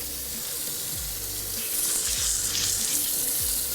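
A raw Thanksgiving turkey rinsed under a running kitchen tap, with a steady close rush of water splashing that lasts the whole time.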